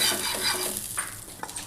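Oil sizzling on a hot griddle ready for corn fritter batter, a close continuous hiss with a couple of light clinks near the end, no talking.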